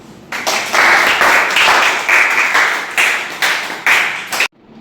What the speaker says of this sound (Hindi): इस बात पर तुम्हें तालियां मिलनी चाहिए।